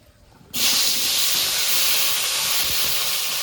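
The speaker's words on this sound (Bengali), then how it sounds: "মাছ ভাজা তেলের মধ্যে বেগুনগুলো ভেজে নেব" A loud, steady hiss bursts in suddenly after a brief quiet moment and holds, as eggplant drops into hot fish-frying oil and sizzles continuously.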